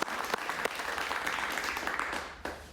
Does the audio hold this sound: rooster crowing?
no